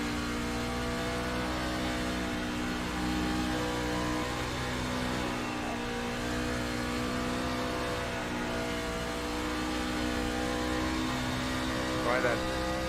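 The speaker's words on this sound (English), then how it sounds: "these are easily the loudest cars in iRacing" Race car engines drone and rev in the iRacing video game, a steady layered mechanical hum with sustained pitch bands and a brief rising whine near the end, moderately loud under the game's background.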